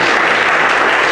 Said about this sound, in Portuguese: Por Senhor Jesus, uma linda salva de palmas